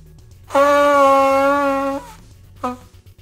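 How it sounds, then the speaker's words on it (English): A person blows their nose in one long, honking, tonal burst of about a second and a half, then a shorter second honk follows after a brief pause, loud and close. "I'm gonna blow my nose."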